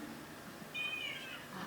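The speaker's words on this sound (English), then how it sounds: "Listen to the cat." A cat gives one short, thin, high meow, faint and distant over a steady background hum, with no voices.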